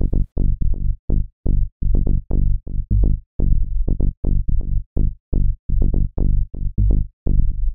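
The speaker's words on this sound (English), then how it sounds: "Now, the bass line I actually ended up with sounds like this." Synth bass line played alone, a steady rhythmic run of short punchy plucked notes with quick decays, some softer ghost notes tucked between the main hits, looping evenly throughout.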